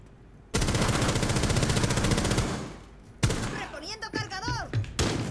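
Loud sustained burst of rapid automatic gunfire in the tactical shooter Rainbow Six Siege, followed by a sharp single shot and scattered impacts, with a player's voice speaking over the later part.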